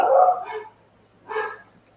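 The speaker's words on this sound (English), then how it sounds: "I have no idea what they're barking about." A dog barks twice nearby, a loud bark followed by a second one after a short pause.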